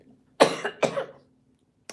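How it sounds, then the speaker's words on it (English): A person coughs twice in quick succession, close and fairly loud, with a short harsh burst each time, then silence and a faint click at the end. "Y'all know I'll be coughing."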